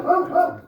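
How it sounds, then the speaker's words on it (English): Two quick, close barks from a dog indoors, sharp and fairly loud, spaced a fraction of a second apart and heard alone without any talking. "Excuse my dog."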